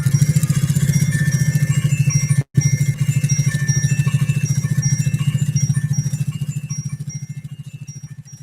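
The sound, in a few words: Pfaff 130-6 sewing machine stitching leather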